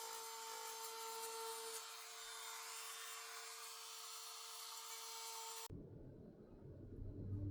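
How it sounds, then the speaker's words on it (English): A rotary drill whines at a high steady pitch while boring through rock for jewelry making, the tone dipping slightly partway, then cutting off abruptly into quieter low handling noise. "start drilling on that end to meet up with the other hole."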